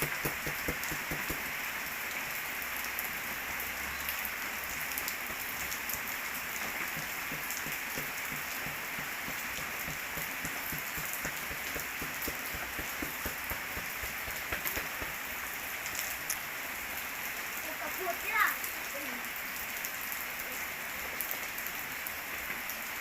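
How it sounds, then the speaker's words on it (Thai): Morning rain pours down in rural Isan, Surin province, Thailand, a steady, close patter of heavy drops drumming on surfaces that continues without a break and with no talking. "ฝนตกดีมื้อนี้"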